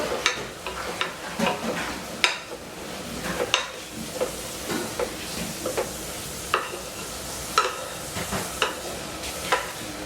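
Onions, celery and garlic sauté in a pan with a steady, close sizzle, broken by scattered clicks and scrapes as a utensil stirs the vegetables.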